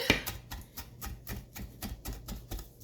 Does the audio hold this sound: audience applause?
no